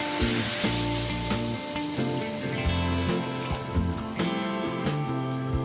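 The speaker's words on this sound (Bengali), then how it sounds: "এবার এর মধ্যে আমি জল অ্যাড করে দিচ্ছি" Water poured into a pan of frying spices for a vegetarian elephant-foot yam curry, giving a loud, steady sizzle with occasional clinks and stirring knocks throughout.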